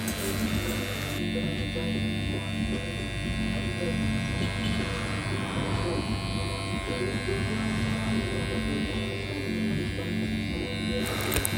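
Electric hair clippers with a guard and lever buzz steadily while fading hair in a barbershop, a continuous close hum with no breaks, running under faint background music.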